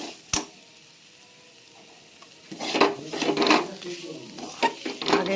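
Potatoes fried with spices sizzle in a pan, quiet at first, then a spoon scrapes and stirs them in a series of close, uneven bursts, with a sharp clink near the start.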